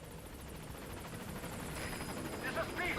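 The Pequot helicopter in the Metal Gear Solid V video game arrives at a landing zone with a steady, low rotor drone that grows slightly louder, while a voice speaks over it.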